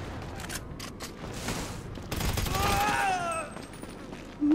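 Assault rifle fire in Grand Theft Auto 5, a scattered volley of sharp shots heard over continuous game noise, with a voice speaking partway through.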